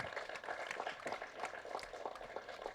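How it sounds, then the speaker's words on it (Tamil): Audience applause at a Tamil film audio launch for Kuttram Thavir, a steady, dense patter of many hands clapping that continues at an even level throughout, fairly faint and distant. "இதனால் பலத்த கரகோஷம் கொடுங்க அவருக்கு."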